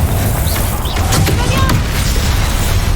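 Confringo fire-spell explosions in Hogwarts Legacy, a continuous loud booming, crackling barrage with fizzing whooshes layered on top, dense and unbroken for the whole stretch.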